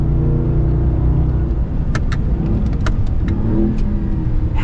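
A 2022 off-road pickup truck accelerating over bumpy terrain, a loud close engine rumble that holds steady throughout, with scattered sharp rattles and knocks.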